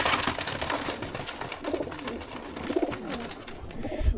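Soft racing pigeon coos repeat over a steady outdoor background, fairly close, with scattered bird calls and no talking, on a sunny day with hardly any wind.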